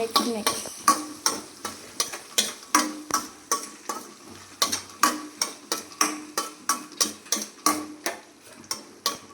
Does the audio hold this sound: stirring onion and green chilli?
yes